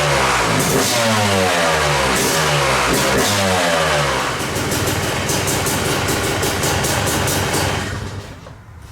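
A 2022 Yamaha YZ250 dirt bike engine runs loud and close, revving in several rising and falling sweeps before settling into a rough, crackling idle that fades at the end.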